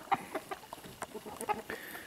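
Hens and roosters cluck in a quick, irregular series of short calls, close by and fairly quiet, with no talking.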